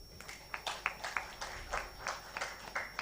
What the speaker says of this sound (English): This deserves a good round of applause, I believe.